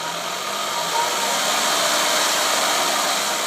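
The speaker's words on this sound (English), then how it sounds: "this is the power supply for my motor. I'll just turn it on" Electric motor running with its speed set through a variac power supply, giving a loud, steady whirring hum with a faint rising tone, continuous and close.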